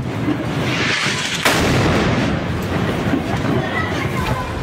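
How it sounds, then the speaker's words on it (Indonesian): A building in Gaza City is blown apart by an airstrike, heard as a sharp, heavy blast midway through a continuous roar of rumbling debris and crowd noise, loud and close. "Rekaman video menunjukkan dahsyatnya ledakan bangunan di kota Gaza."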